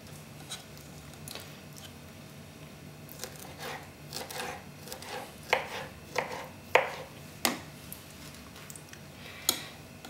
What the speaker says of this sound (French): je vais prendre un peu de carpaccio qui me reste, notamment une grande tranche, et je vais la couper en petits carrés